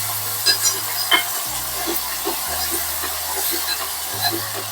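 Tomatoes and chilies tempered in hot oil with asafoetida give a steady, close sizzle throughout, punctuated by soft scraping stir sounds.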